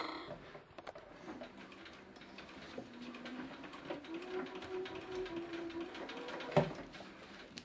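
Sewing machine stitching close along a fabric edge while inserting frills into tucks, a faint steady mechanical whir running continuously with a brief sharp click near the end.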